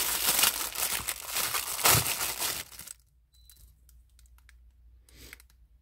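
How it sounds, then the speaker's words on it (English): A silicone resin mold is pulled from its plastic package, giving a loud burst of crinkling plastic for about three seconds, then quiet with a few small rustles and taps. "Let me take it out of the package."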